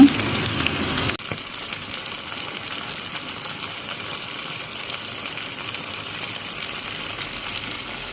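Meat curry frying in a pan gives a steady, close sizzling hiss that runs unbroken after a brief louder burst at the start, with no talking.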